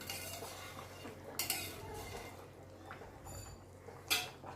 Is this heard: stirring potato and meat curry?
yes